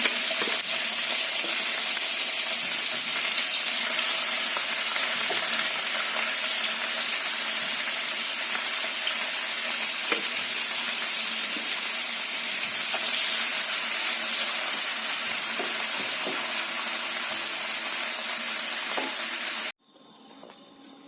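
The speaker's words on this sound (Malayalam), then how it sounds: "എണ്ണ ചൂടായിട്ടുണ്ട് നമുക്ക് കുറേശ്ശെ ഇട്ട് കൊടുക്കാം" Steady, dense sizzling of small koozhuva fish (anchovies) frying in hot oil, continuous and close, cutting off abruptly near the end.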